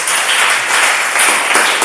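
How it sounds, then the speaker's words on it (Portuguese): A church congregation breaks into steady applause, a dense, even wash of many hands clapping together for about two seconds with no voices over it. "Aplauda Jesus."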